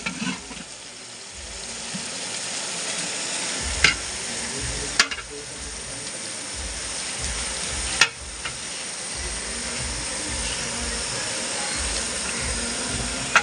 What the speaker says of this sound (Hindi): प्याज को पूरा एकदम अच्छे से मिला रहा, प्याज को पकने दे रहा है एकदम पूरा